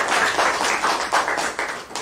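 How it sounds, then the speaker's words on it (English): Audience applause for guests at a National Youth Day event, heard as a short, moderately loud patter of clapping hands that swells and fades slightly. "I request all of you to make a big round of applause for our guests."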